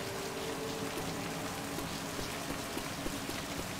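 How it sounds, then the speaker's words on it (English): Steady soft patter of video game rain with faint scattered drips, continuous and moderately quiet, no voices. "I love the sound of rain."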